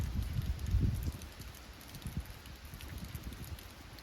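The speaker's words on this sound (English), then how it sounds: "Shall we just take a moment to enjoy this rain?" Rain falls on concrete outdoors. The patter is soft and steady, a faint, even wash with low rumbles underneath, and no voices are heard.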